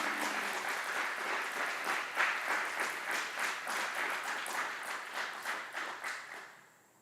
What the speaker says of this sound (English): Please join us in giving a round of applause to these outstanding drill sergeant and instructors.